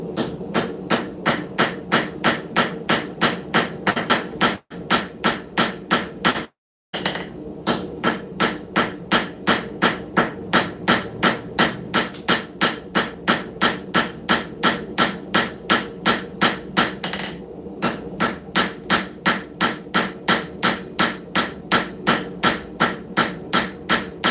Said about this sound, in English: all we did was we used that ball peen